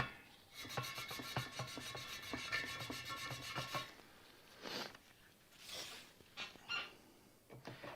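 Steel wool soaked in WD-40 scrubbed back and forth on a spoke of a vintage Honda motorcycle wheel, producing close, quiet rhythmic rasping strokes that settle into irregular scratchy rubs and squeaks.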